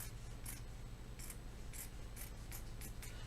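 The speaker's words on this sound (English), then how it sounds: "I'm gonna go ahead and first trim the side seam" Fabric scissors trimming the side seam of a draped strapless corset bodice, about eight crisp snips in an uneven rhythm over a low background hum.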